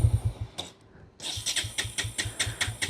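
Bajaj Pulsar N160 motorcycle cranking with no fuel, a short burst of starter whirring, a brief pause, then a longer run of rapid rhythmic cranking pulses close by that never catches.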